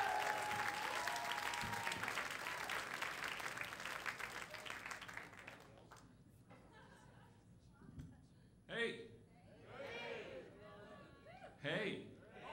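A comedy club crowd at an improv workshop show applauds a comedian onstage, dense steady clapping for about five seconds that then thins out, followed by scattered claps, murmurs and a few voices.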